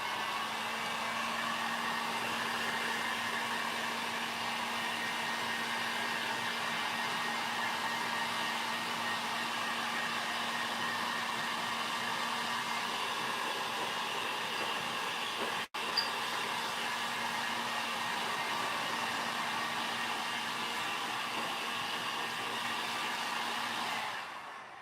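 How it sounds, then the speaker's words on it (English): A heat gun blows hot air onto glass, giving a steady, even whirring hiss with a low hum beneath. It runs continuously for about 25 seconds, broken only by one very brief dropout. "So I'm going to keep stopping and starting and keep the heat gun moving."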